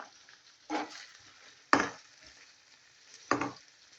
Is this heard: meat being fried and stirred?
yes